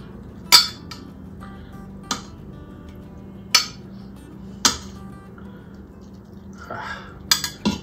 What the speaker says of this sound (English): It might be a little hard to even get them out with tongs.